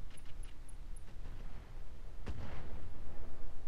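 Mech weapons in the Roguetech battle game fire on an enemy carrier: a sharp, heavy artillery-like blast booms out mid-clip over a continuous low rumble, with faint earlier thuds.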